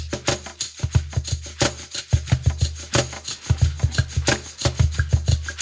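A tool scoring lines into ceramic clay along a ruler for a four-sided pyramid, giving close, rhythmic scraping strokes that repeat rapidly with short pauses between them.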